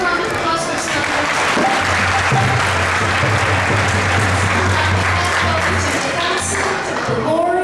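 Sustained applause from a temple audience at an ISKCON Toronto lecture gathering, loud and continuous from a sizeable crowd, with a voice speaking over it.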